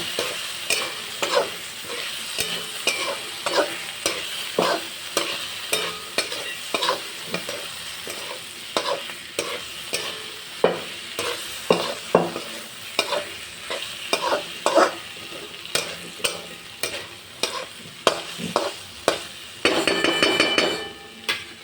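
A ground garlic and green chili paste fries in a pan while a spoon scrapes and clatters against the metal in quick, repeated strokes over a constant sizzle; no one speaks.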